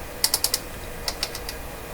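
A volume control knob on an Electrohome CS400P stereo is worked back and forth, giving a quick run of four dry ratcheting clicks, a brief pause, then several more scattered clicks, close and crisp.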